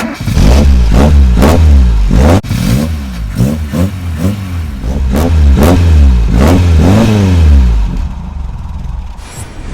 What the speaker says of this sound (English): Let's get inside, start the engine and see what it sounds like.